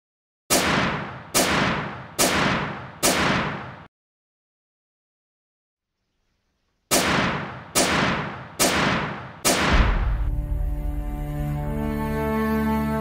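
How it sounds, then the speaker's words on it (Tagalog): Firing squad rifles fire at an execution in four sharp, loud volleys about a second apart, then a pause of silence, then four more volleys, followed by a sustained low rumbling tone. "Ang mga baril ay itinutok sa kanyang dibdib at sa isang hudyat, ang mga rifles ay sabay-sabay na pinaputok."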